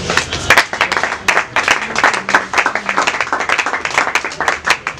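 An audience at a foundation's first-anniversary celebration applauds with steady, fairly close, rhythmic clapping that continues for several seconds.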